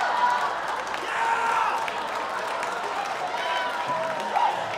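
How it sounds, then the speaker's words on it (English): An audience at a conference session claps and murmurs in a steady, moderate wash of applause with a few crowd voices mixed in. "Oh man, you guys clap for that stuff?"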